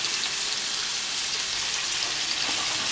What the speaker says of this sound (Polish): I teraz wrzucam mortadellę i ją będę smażył.